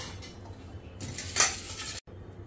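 Steamed Indian gooseberries are lifted out of a metal pot with a spoon, giving quiet scraping and clinking with one sharp clink, then a brief silence.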